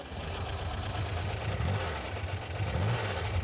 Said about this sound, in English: Got a cool sound. It's kind of VW, but it's got a thump.